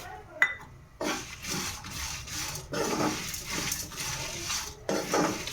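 Dry coconut and curry leaves frying in a pan for vangi bath spice powder, with scraping and stirring clatter of a utensil against the pan in repeated bursts, accompanied by a soft background sizzle.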